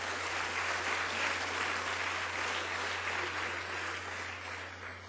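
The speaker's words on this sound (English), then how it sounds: "Tom Carroll won't be with us, but let's give him a round of applause anyway from Saddleback College." Sustained audience applause at a college chancellor's opening session, a dense steady clapping from a large crowd that holds at an even level for the full stretch, with no talk over it.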